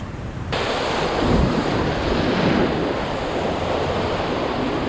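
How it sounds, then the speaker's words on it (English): Ocean surf surging against the rocky Kona shoreline in Hawaii, a steady loud roar of breaking waves with wind rumbling across the microphone, rising in a swell partway through and continuing without letup. "Where the waves are crashing up on one side or crashing up on the other."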